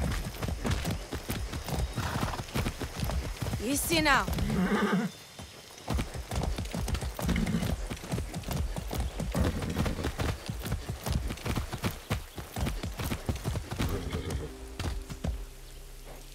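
A horse in the video game Far Cry 6: steady clip-clop of galloping hooves throughout, with a loud whinny around the fourth second, while someone speaks briefly over the hoofbeats.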